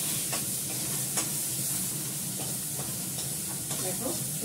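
Ginger paste frying and sizzling in a pan, a steady close hiss with light stirring scrapes, a faint voice in the background.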